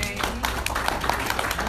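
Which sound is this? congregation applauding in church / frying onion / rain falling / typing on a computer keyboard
congregation applauding in church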